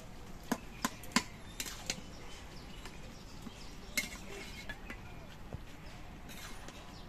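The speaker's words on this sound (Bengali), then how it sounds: "আবার আমি কড়াইয়ের ঢাকনাটা খুলে নিচ্ছি আর লাউ ঘন্টটা নেড়ে চেড়ে দিচ্ছি।" A few sharp metal clinks and scrapes from a spatula stirring bottle gourd and fish head ghonto in a kadai, sparse and fairly quiet over a low background hum.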